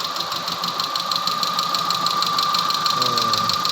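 A 2013 Chevrolet Aveo engine idles steadily after a fuel pump replacement, fitted with an Elantra pump. It gives a close, even hum with a light knocking tick and a faint whine throughout, and no talk is heard over it.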